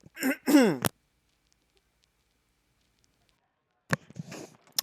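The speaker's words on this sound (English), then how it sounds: "Hang on, I'm going to cough" Someone clears their throat and coughs in two close bursts, then falls silent for about three seconds before another rough throat-clearing cough and some breathy noise, close and moderately loud.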